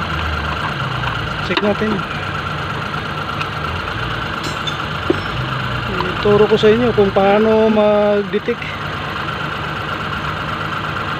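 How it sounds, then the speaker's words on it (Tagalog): An idling engine misfires because of a defective ignition coil, a steady mid-pitched running drone with an uneven, labored rhythm. Someone talks over it throughout. "Para naghihingal ang makina."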